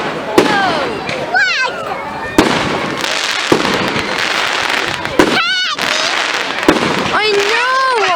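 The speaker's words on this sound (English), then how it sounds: "These fireworks are so" Fireworks burst on bonfire night with a series of sharp bangs and crackles, several whistling rockets rising between them, while people talk and exclaim nearby.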